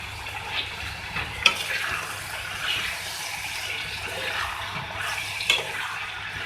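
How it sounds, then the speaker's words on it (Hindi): Potatoes with a teaspoon of cumin powder being stirred in a pan for an egg-and-potato breakfast, a steady soft scraping and sizzling texture with a couple of brief sharper clinks of the utensil. "इसको मिक्स करेंगे।"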